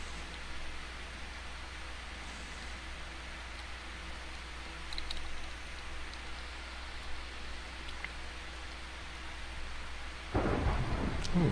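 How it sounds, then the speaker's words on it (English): Steady rain and rumbling thunder from a Minecraft FTB modpack storm, a constant wash of noise with a sharper crack near the end, and no voices. "Ooh, thunderstorm."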